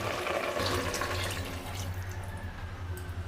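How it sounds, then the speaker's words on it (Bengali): Water poured into a wok to rinse it, a steady close splashing and running-water rush that thins out toward the end, with no voices. "কড়াইটা ধুয়ে জলটা দিয়ে দেবো ওর মধ্যে জল দিয়ে"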